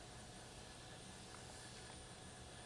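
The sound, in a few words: APU running outside a Boeing 737-300 in a flight simulator video game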